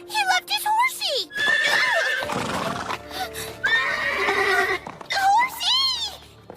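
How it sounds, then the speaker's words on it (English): A horse neighs and whinnies repeatedly up close, with high wavering calls in several bursts and hooves clip-clopping, while voices talk over and between the calls. "He left his horsey!"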